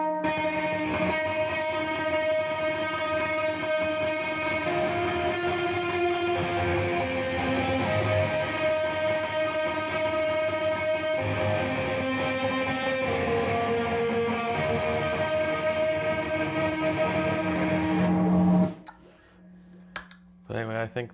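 A Squier Jazzmaster electric guitar plays a sustained, melodic lead through a chain of effects pedals, with notes ringing and overlapping in a washy, heavily processed tone. It continues steadily, then cuts off abruptly near the end.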